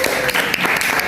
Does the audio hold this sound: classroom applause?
yes